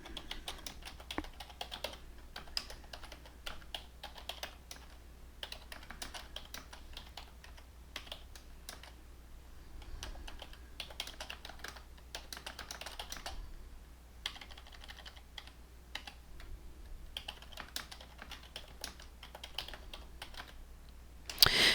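Keys on a computer keyboard are tapped steadily while an email is written, a quiet run of soft clicks in irregular bursts with short pauses, nearby and without speech.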